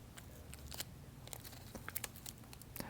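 A pressure-sensitive sample sheet is peeled back from one corner, giving faint, close crinkling and soft tearing crackles in short irregular bursts.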